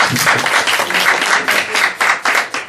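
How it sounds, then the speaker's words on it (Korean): A church congregation claps loudly and close by, the bursts of applause pulsing in an uneven rhythm for a few seconds. "박수 한번 해주세요."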